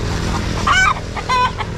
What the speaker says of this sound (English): Chicken or rooster is their property, but can you see?